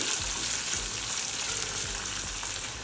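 Sliced onion with green chillies frying in a pan give a constant, dense sizzle with a bright crackling hiss, close and fairly loud, with faint soft stirring knocks underneath and no talking.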